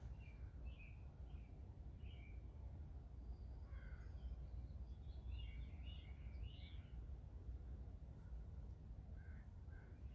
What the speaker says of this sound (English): I see some more crows on the wing, flying past my neighbor's house over there